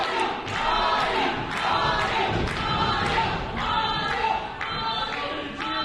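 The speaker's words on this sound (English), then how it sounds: "Crowd solidly behind the unnatural Ali." A wrestling crowd at a Barrie Wrestling event roars steadily, punctuated by repeated heavy thuds that sound like bodies hitting the ring. Voices shout through the noise.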